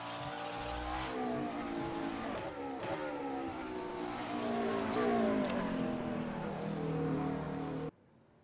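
A GT3 race car in the rFactor 2 racing game is heard from outside, its engine droning and revving through the gears with rising and falling pitch sweeps, steady and fairly loud before cutting off abruptly near the end.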